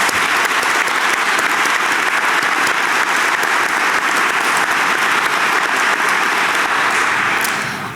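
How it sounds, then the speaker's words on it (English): An audience applauds at a college convocation and reunion ceremony, with loud, sustained clapping from a large crowd that holds steady throughout and tapers slightly at the very end. "Can we all give him a round of applause?"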